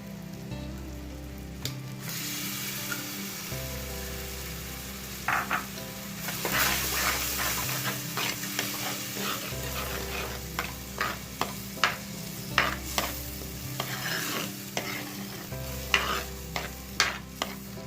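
Fish pieces sizzling in hot oil in a pan for Tamil meen kuzhambu, a steady close crackle with repeated stirring scrapes and clinks growing busier toward the end, with no talking.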